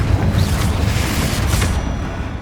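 A Confringo spell explosion booms in Hogwarts Legacy, a loud rumbling blast that opens the clip and decays into rolling low noise.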